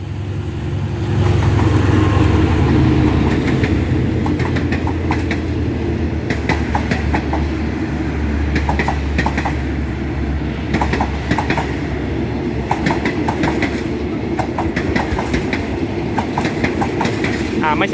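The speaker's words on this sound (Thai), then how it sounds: "ตอนนี้ก็จะมีรถมานะน่าจะเป็นรถเปล่า GA 4537" An empty train rolls through the Ranong 1 Road railroad crossing, a loud continuous rumble with rhythmic clickety-clack of wheels over rail joints, close by and sustained the whole time.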